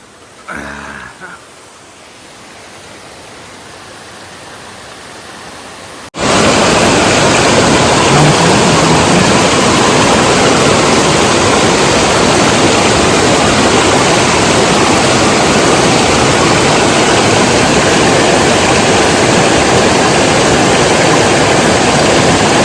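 Dudhsagar Waterfall in Goa roars loudly and constantly after a quieter opening, its dense rushing water filling everything.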